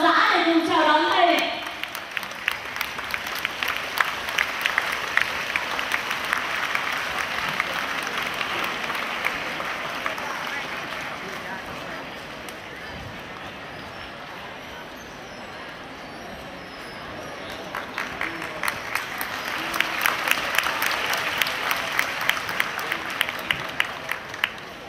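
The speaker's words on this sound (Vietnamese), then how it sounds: "Và tất cả chúng ta sẽ cùng đứng dậy, dành những tràng pháo tay thật rộn rã để cùng chào đón thầy." A seminar audience at a 2016 Vietnamese talk on self-positioning and startup thinking claps to welcome Dr. Lê Thẩm Dương, with dense applause at the start, a quieter stretch, then a second loud burst near the end, voices talking in the hall.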